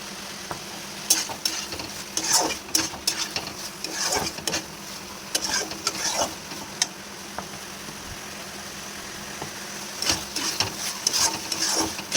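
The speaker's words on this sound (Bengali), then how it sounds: "আমি ভালো করে নাড়াচাড়া করে নেব। পাঁচ মিনিট এটাকে কষাবো মোচাটাকে দিয়ে।" Chopped banana flower is stirred and sautéed with spices in a pan. A soft background sizzle runs under bursts of scraping and clattering as a spoon works the mixture, with quieter pauses between stirs.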